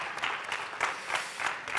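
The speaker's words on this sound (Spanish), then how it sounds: "Un fuerte aplauso." An audience at a talk on asthma and sport gives a short round of applause. The clapping is fairly soft and comes in uneven bursts over a couple of seconds.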